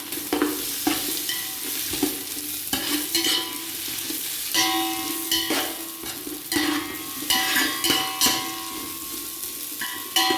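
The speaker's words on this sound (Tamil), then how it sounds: "வெங்காயம் நல்லா வதங்கணும்" Four large onions sliced lengthwise, with a small piece of cinnamon, fry in a pot for chicken biryani. A steady, close sizzle runs throughout, with repeated scrapes and knocks of a stirring spoon and no talk.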